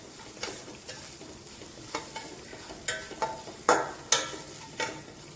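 A paste of ground coconut and green chilli fries in a pan for dal rice. It sizzles steadily while a spoon stirs and scrapes at irregular moments, and no one speaks.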